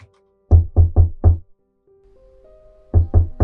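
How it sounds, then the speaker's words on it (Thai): A door being knocked in a Thai audio drama: two quick bursts of three or four firm raps, near and loud, separated by a quiet pause with a faint low hum. "ก็มีเสียงเคาะประตู"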